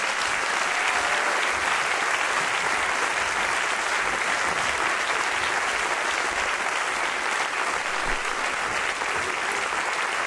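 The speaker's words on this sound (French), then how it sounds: "Sous vos applaudissements" Warm, continuous applause from a concert audience welcoming actor Daniel Auteuil onstage at a benefit concert at the Institut du monde arabe, dense and unbroken from start to finish.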